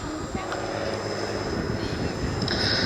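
An aircraft makes a final low pass with a wing waggle at the Duxford Battle of Britain air show, a steady broad engine roar that holds loud and constant throughout, with a voice talking over it.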